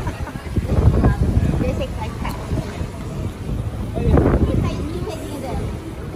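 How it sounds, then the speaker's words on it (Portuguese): Strong wind buffets the microphone on an open cruise ship deck, a steady rushing roar with gusts swelling louder around the first and fourth seconds, while a person talks over it. "É que tá ventando muito, acho que o tempo vai virar nesse lugar que a gente tá."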